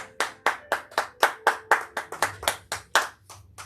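A church congregation claps together in a quick, steady rhythm during a French-language service, about four crisp, close claps per second with no voices.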